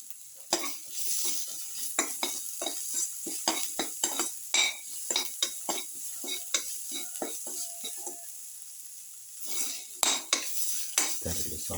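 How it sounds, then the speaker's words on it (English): Garlic and winter melon mixture sautéed in a pan, with a steady faint sizzle under frequent close clinks and scrapes of a utensil stirring against the metal. "Thoroughly saute mix."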